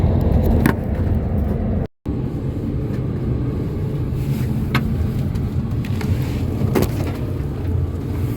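Steady engine drone and road rumble from inside an Airline Coach Company coach bus heading to Heathrow, continuous and fairly loud, with a brief dropout near the start.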